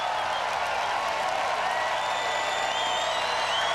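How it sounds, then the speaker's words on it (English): A BattleBots arena crowd roars as a steady, unbroken wash of cheering and applause, with a few thin whistles rising above it toward the end. "And the crowd chanting the name Ziggo."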